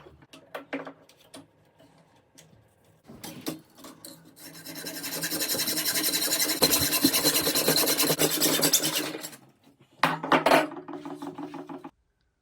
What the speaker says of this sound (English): I'll use a miter jig, and then I'll be able to cut this dead straight.